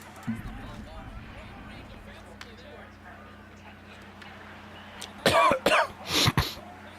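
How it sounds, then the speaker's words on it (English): Three or four sharp coughs near the end, close to the mic, after several seconds of quiet background noise. "I got the little nasty cough here."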